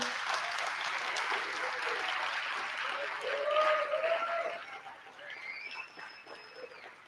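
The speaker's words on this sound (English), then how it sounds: "we can all give a round of applause to the board, the staff, and the volunteers" A film festival awards ceremony audience applauds in a continuous, moderately loud wash, swelling briefly in the middle, with whoops and voices rising over the clapping.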